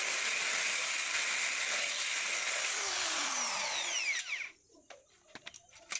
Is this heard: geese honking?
no